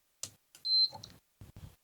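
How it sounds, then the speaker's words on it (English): An outdoor ceiling fan hung under a ceiling switches on for the first time, giving a single short high-pitched electronic beep between a few faint clicks and handling knocks, close and quiet, with no talking. "We have a high-pitched beep and a light."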